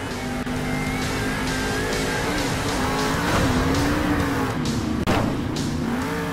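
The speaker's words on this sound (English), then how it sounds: "Oh, and a big time crash by Zombie Fire!" Monster truck Zombie Fire driving and crashing in the Monster Jam Steel Titans video game, a loud continuous engine roar with rising revs and tire noise, broken by a sharp crash thud near the end.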